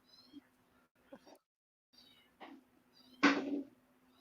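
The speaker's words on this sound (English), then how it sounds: "Yes, that's the little kitty that you hear, Dana" A small rescued kitten meows several times in a quiet indoor room, short faint cries building to one louder meow near the end, with no talk over it.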